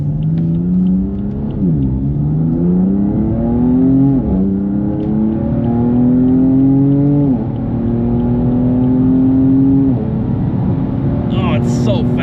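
A 2016 BMW M4 GTS accelerates hard along a freshly paved road, its engine droning loudly from inside the cabin, with the pitch climbing through each gear before dropping at every upshift.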